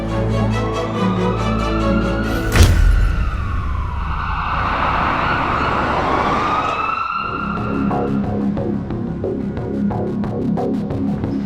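A loud ambulance siren wails and sweeps up and down in pitch beneath music-like tones, with a sudden thump early on, continuous and close throughout.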